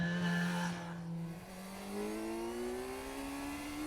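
A Kawasaki Z900 four-cylinder motorcycle downshifts with a quickshifter: the engine note drops sharply, dips briefly, then settles and climbs smoothly again, heard from some distance and without speech.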